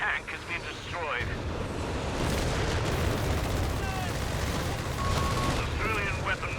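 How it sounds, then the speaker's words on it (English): Artillery fire in the real-time strategy game Company of Heroes 3 during a 4v4 match: a dense, continuous barrage of booms and gunfire beneath an excited commentator's voice. "Oh my god, it's carnage in the middle. So much artillery."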